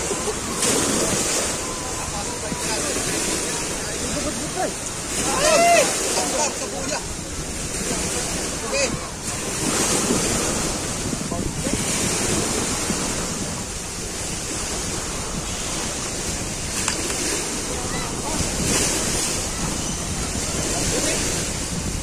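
Rolling ocean waves surging and washing nearby amid gusty wind noise during a small boat race, with occasional voices talking faintly over the surf.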